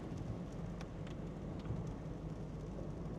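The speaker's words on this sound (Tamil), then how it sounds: "மழை வேறு பெஞ்சிட்டிக்குது" Rain falls steadily on a village road near Ella, a soft, even hiss with low rumbling underneath and no voices.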